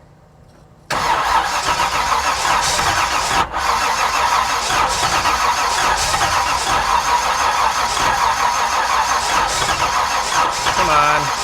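A 1968 Camaro engine cranking and trying to start, a sudden loud, steady starter whir that runs on for several seconds with a brief dip, close and continuous.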